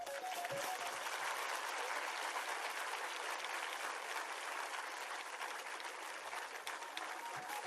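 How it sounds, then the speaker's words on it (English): A school event audience breaks into steady, sustained applause, many hands clapping in a dense, even wash from start to finish with no voices on top. "Let's fill the air with your thunderous claps."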